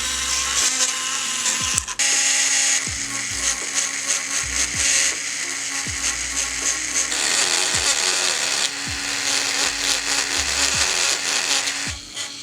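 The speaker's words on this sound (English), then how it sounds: "I'm gonna go in with my rotary tool just to make the edges super clean and crisp." Handheld rotary tool fitted with a small ball burr whirs steadily while cleaning the edges of engagement ring prongs, its high buzz rising and dipping with repeated short touches against the metal, close and continuous with no talk.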